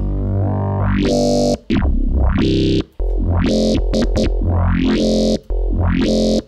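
Loud distorted FM synthesizer tones from Ableton Operator, one sine oscillator modulating another, sweeping up and down in repeated swoops, harsh and buzzy with metallic modulated timbre, brief gaps between phrases.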